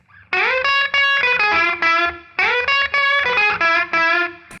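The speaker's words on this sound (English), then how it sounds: "it would sound like this, with a minor seventh instead of the major six." Distorted electric guitar plays a blues lick in minor pentatonic with a minor seventh, two close phrases of sustained, bent notes with a short gap between, loud and alone.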